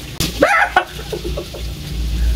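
A chicken clucks and squawks nearby in a few short bursts, with a low background rumble.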